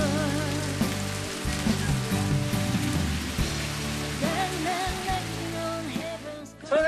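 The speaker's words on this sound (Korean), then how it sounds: "왜 이렇게 비가 오는 거예요?" Heavy rain pours down steadily at a mountainside garden home about 450 metres up, a constant hiss under a layer of music.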